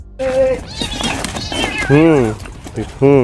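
A cat gives several loud, close meows, drawn out and wavering, with a growling caterwaul between them, as it stands off against a dog.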